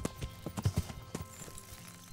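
Horse hooves clip-clop in Kingdom Come: Deliverance, a run of close, irregular hoof strikes with a few heavier thuds near the middle before the steps thin out.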